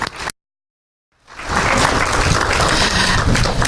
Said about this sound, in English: Let's give Brianna and Thomas another hand clap.